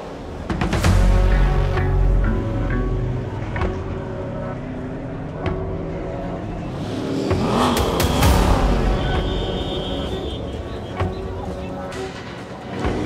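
Racing motorcycle engines around the pit lane before the Suzuka endurance race, a steady rumbling drone with revving swells, while people talk over it throughout.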